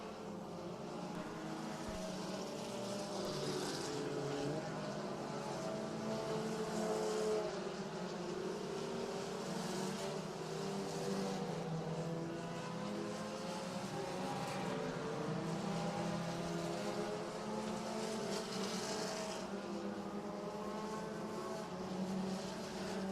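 Race cars on a dirt oval track at a regular race program, engines roaring steadily as the field circles, a continuous loud droning with rising and falling pitch and no talk.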